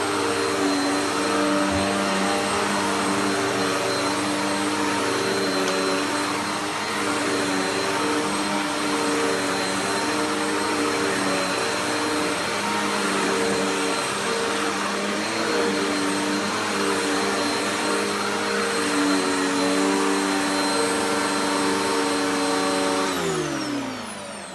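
A Eureka Contour classic upright vacuum cleaner runs steadily and loudly with a constant motor whine and airflow roar, then winds down abruptly at the end; no talking over it.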